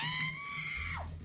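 A woman's high, sustained scream from the TV show Lucifer, holding steady for about a second before breaking off and sliding down, with a low background hum beneath it.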